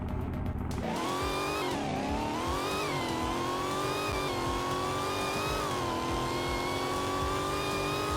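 A car accelerates hard from standstill toward 100 km/h, its engine note climbing steadily through the revs with a loud, continuous close-up roar and brief shifts in pitch.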